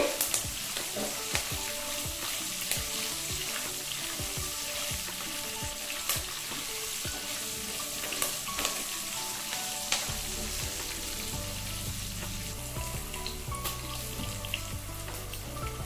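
Slit green chillies sizzle and fry steadily in hot oil in a pan, a dense continuous crackle with occasional stirring clicks, close and moderately loud with no talking.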